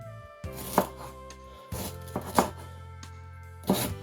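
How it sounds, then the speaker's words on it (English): A knife chops ginger into pieces on a board, landing about three distinct thuds with crisp cutting crunches between them, close and clear against a faint background hum, and no one speaks. "So now it's time for us to cut the ginger."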